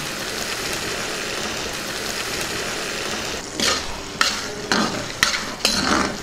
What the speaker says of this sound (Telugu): ఒకసారి బాగా కలుపుకుందాం దీన్ని కాసేపు ఉడకనిద్దాం